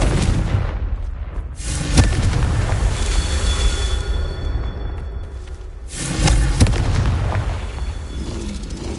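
Fire-spell explosions from Confringo in Hogwarts Legacy: two loud, booming blasts, one near the start and one a little past the midpoint, each trailing a rumbling crackle that fades away under a steady low background roar.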